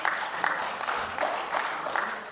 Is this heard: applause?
yes